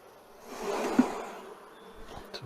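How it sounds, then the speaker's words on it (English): Honey bees hum at an open beehive during brood inspection, a soft, close, steady buzz that swells briefly and then fades to a low drone. "So we'll just shake the bees off of that."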